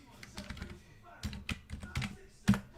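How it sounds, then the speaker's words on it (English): Short bursts of keystrokes on a computer keyboard, irregular clusters of clicks separated by brief gaps, close and moderately loud, ending with a firmer tap, while a voice murmurs in the background. "Let me just type it in."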